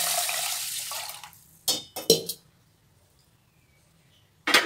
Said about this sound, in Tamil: இப்போ நம்ம இதை ஊற வச்சிடலாம் தண்ணி ஊற்றி.